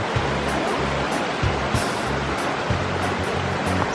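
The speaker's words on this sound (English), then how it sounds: "We got another tiny waterfall over here." A small waterfall at Nojoqui Falls, swollen after days of rain, gives a steady, loud rush of falling water that holds without pause for the whole stretch.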